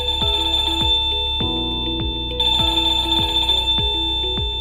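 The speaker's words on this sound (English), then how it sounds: "then the chime will sound the selected ringtone." Chime unit of an EL-IP11 smart wireless video doorbell set playing its selected ringtone after pairing, a loud electronic melody of repeating tones and chords, close and continuous with no voices.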